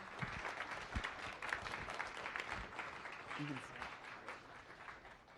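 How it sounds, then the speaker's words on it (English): Museum science cafe audience giving a speaker a round of applause, a faint, fairly distant patter of clapping hands that carries on steadily, with a voice briefly heard within it. "Give him a round of applause,"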